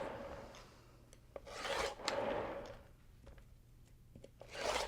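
A quilt block is trimmed square with a rotary cutter on a rotating cutting mat, giving three soft rasping strokes spread across the stretch, with quiet gaps between them and no talking.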